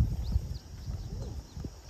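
Horses walking by the East Fork of the Des Moines River on a rural property, soft hoof clops on the ground at close range under outdoor noise and faint birdsong.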